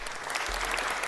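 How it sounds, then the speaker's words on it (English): A brief burst of steady applause fills a city council meeting room as the audience honors student athletes. "So please, a big round of applause for our athletes."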